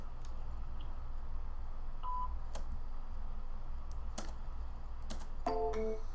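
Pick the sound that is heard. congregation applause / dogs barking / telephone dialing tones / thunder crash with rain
telephone dialing tones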